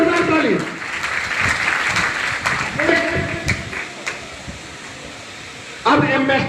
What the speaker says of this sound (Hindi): जल्द से जल्द एक जोरदार ताली चेयरमैन के लिए